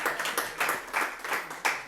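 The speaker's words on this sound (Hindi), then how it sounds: "एक बार जोरदार तालियां हो जाएं" Audience applause after a Hindi poem recital about a mother, a steady wash of many hands clapping at moderate distance, swelling in several bursts across the short stretch.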